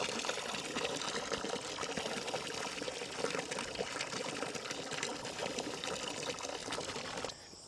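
Water steadily pouring and splashing into a trough for cows, a continuous broadband gush at moderate level that runs unbroken for about seven seconds, then cuts off abruptly near the end.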